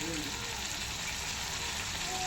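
Fish coated in spice paste of lemon juice, ginger and garlic frying in a pan, a steady dense sizzle with crackling throughout, close and continuous with no voices.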